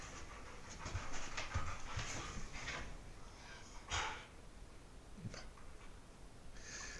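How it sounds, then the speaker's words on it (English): A tired dog pants rapidly and rhythmically close by indoors after running, with a couple of sharper snorting breaths and no talk. "I had a couple of dogs out running and I just let them in. One of them's kind of tired."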